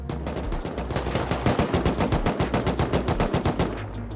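Rapid automatic gunfire in the survival game Rust hammers at a turret, a long, evenly spaced burst of loud, close shots with no pauses.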